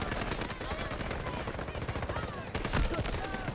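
Rapid bursts of gunfire in a Battlefield video game, including blind-fire shots, crackle in dense, continuous volleys with a heavier burst near the end, close and loud throughout.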